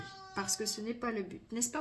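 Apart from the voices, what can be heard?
cat meowing to go outside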